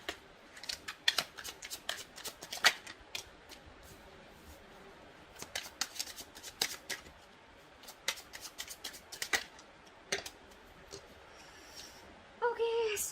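Tarot cards being shuffled: bursts of crisp riffling and snapping card clicks in irregular clusters, fairly quiet and close, with a short stretch of speech near the end.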